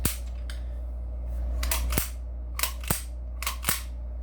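Several sharp lever-action rifle gunshot-like cracks, vocal impressions, fire one after another at irregular intervals over a low steady hum, each report loud and brief.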